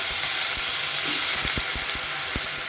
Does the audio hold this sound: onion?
yes